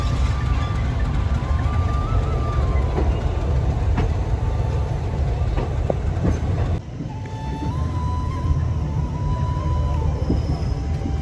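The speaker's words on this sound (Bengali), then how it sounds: "জগন্নাথ এক্সপ্রেস শালিমার পুরী রওনা দিল 7:25 মিনিটে" Jagannath Express train leaving Shalimar for Puri, heard from on board as a loud, steady rumble and rattle of the moving carriage with faint clicks and a brief dip midway.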